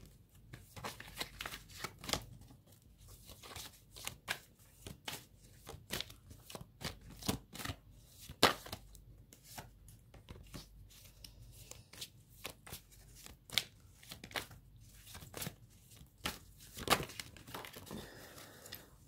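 Tarot cards are shuffled by hand in a quick, continuous run of soft riffling snaps and crisp flutters, close and fairly quiet, with no talking.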